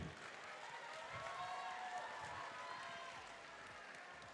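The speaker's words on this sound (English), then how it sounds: "please give a huge round of applause for all our panelists here today" A debate showcase audience at a World Scholar's Cup 2021 round in Shanghai claps steadily throughout, the sustained applause faint and somewhat distant, mixed with a light crowd murmur.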